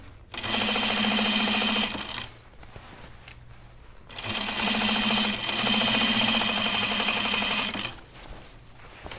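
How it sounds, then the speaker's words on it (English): A sewing machine runs in two loud, steady bursts while stitching a jeans waistband, with quiet pauses between and a faint mechanical clatter in the gaps. "So really awkward for me to sew with my fabric under the machine head."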